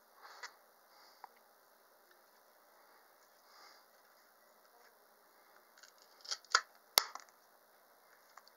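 A ratchet-mechanism pruning secateur clicks and snips through branches: faint scattered clicks early, then a cluster of sharp, close cuts near the end, with no talking.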